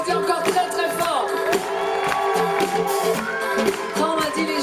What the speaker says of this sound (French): On vous applaudit encore très très fort.